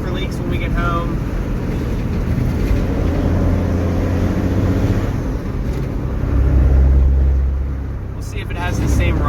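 A Cummins diesel engine with a newly installed turbo, its VGT deleted, idles in a steady, loud low rumble that swells slightly near the end, with people talking over it.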